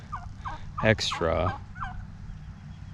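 Turkeys gobble out in a pasture, with several bursts of warbling gobbles and honking calls, loud and close, over a quiet background.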